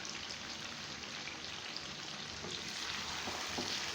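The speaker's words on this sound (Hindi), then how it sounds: "दही और मसाले डाल के चिकन की हमने अच्छी तरह से भुनाई कर ली है" Chicken frying with yogurt and spices for Pakistani chicken biryani, a steady close sizzle and crackle of the bhuna stage that carries on without a break throughout, with no talk over it.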